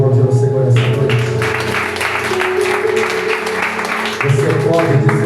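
A church congregation claps during an evening worship service, a burst of broadband applause rising under a speaking voice and tapering off as the talk continues.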